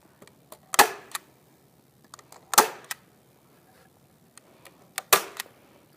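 Staple gun fastening landscape fabric pulled tight over a mini wooden pallet for a garden planter: three sharp, loud snapping shots spaced about two seconds apart, with faint clicks and handling noises between them.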